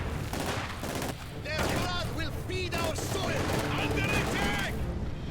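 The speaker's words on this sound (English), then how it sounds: "Grenades going off, but not really impacting upon much." Grenades and gunfire in the World War II strategy game Company of Heroes 2, a dense rattle of shots and blasts under stretches of overlapping voices.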